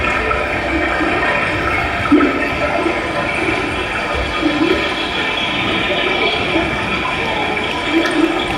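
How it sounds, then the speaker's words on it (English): A stage sound effect of water gushing out of a struck rock during a Sunday school annual day play, a steady loud rushing flow like a flush, with voices murmuring underneath. "and water flows out"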